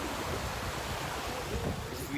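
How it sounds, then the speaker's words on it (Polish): Indian Ocean surf at Zanzibar, a steady low wash of waves mixed with wind buffeting the microphone, fairly faint and continuous. "Ocean Indyjski. Zanzibar."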